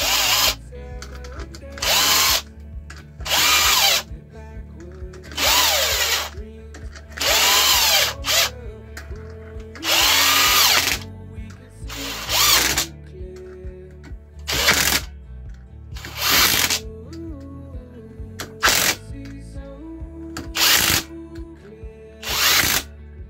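A power drill tightens bolts on a Cagiva motorcycle gearbox in repeated short whirring bursts with brief pauses between them, close and loud, with no talk.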